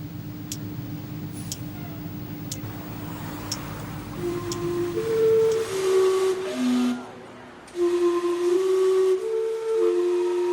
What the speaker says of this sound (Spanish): el que dicen es el primer reloj de vapor del mundo. Desde 1870, su silbido recuerda cada cuarto de hora el imparable paso del tiempo